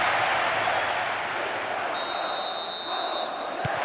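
Stadium crowd applauding and cheering in the football game PES 2010, a dense, continuous roar of noise at steady loudness throughout, with a brief whistle-like tone near the end.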